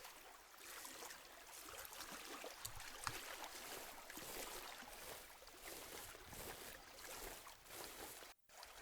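A river flows through a forest in the audio game Blind Survival, a faint, steady broadband rush and trickle of water running on alone, with a brief dropout near the end.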